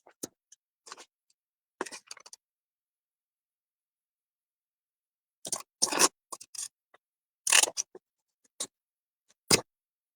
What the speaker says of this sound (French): changer ma grosseur de ciseaux parce que sinon, vous m'auriez regardé découper pendant 3 heures.